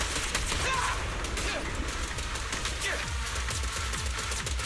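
Repeated shooting in the video game Zenless Zone Zero: a continuous, rattling stream of gunshots at a steady rhythm over several seconds, with a voice talking faintly underneath at times.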